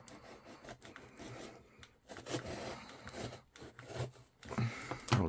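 A knife saws and scrapes through a cardboard parcel box in short rasping strokes, several bursts separated by brief pauses, close but fairly quiet with no talking.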